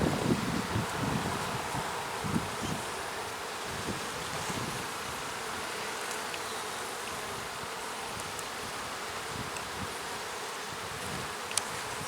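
Dense, continuous buzzing of many honeybees close by, a steady hum with occasional soft bumps and rustles.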